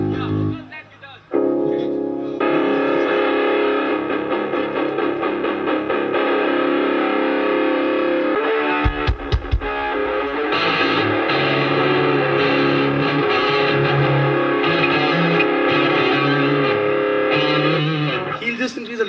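Electric guitar played through distortion and effects during a live soundcheck, loud and sustained, with chords ringing over a full band and a few hard percussive hits midway.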